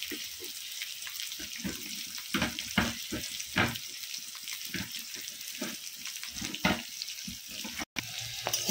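Two large chopped onions frying in hot oil give a steady close sizzle, punctuated by repeated scraping stirs and clicks of a spatula against the pan, with no one talking.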